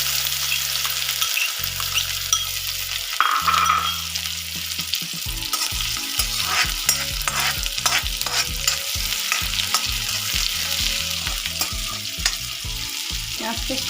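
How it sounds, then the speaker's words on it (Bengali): Chopped onion frying in a pan and stirred steadily, a sustained close sizzle broken by repeated scraping and clattering strokes for the full stretch, with no one speaking. "পেঁয়াজটা দিয়ে দিলাম।"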